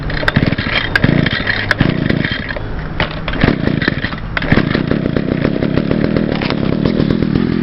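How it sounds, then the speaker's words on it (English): An Echo SRM-2100 string trimmer's two-stroke engine, recently given a carburetor adjustment, catches with a few sharp bursts and then runs steadily and loudly at close range. "Hold on, let me start it back up."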